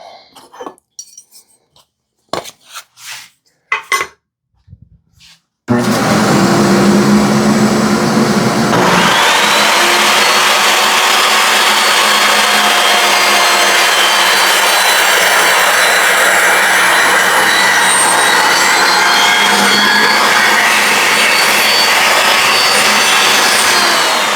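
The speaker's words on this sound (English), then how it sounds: "We'll tighten that down, and we'll cut this piece right here." Power saw cutting a piece of wood on a table while building a bead loom: a few light knocks, then a loud steady whine that starts abruptly and runs unbroken for nearly twenty seconds, its pitch shifting slightly as the blade works through the stock.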